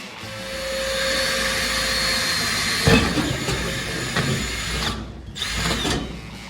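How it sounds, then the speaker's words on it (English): A power drill whines steadily, drilling quarter-inch holes into metal on a Model A roadster body, grinding and buzzing with a few bumps and pauses, loud and close throughout. "I drilled those holes out to 1/4 inch"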